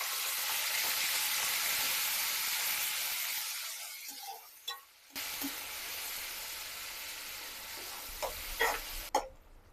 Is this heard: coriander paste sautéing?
yes